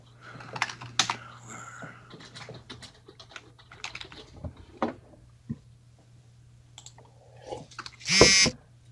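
Scattered clicks of typing on a computer keyboard, irregular and fairly faint, with a few louder taps and a sharp burst near the end.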